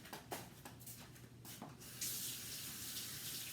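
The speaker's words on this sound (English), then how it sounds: "let me wash my hands" Tap water runs steadily into a kitchen sink while hands are washed, a constant close splashing hiss that grows fuller and brighter partway through.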